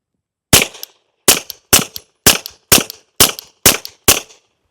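Eight suppressed pistol shots from a Dagger fitted with a Rad 9 suppressor fire at a steady pace, each a sharp, loud, close crack with a short decay.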